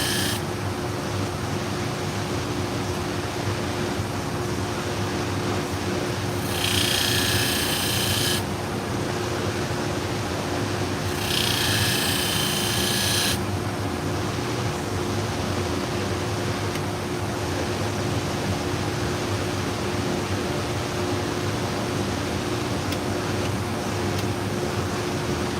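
A sharpening machine working on surgical tools gives a steady, dense whirring hiss throughout, with two brighter, harsher grinding bursts partway through and no talking.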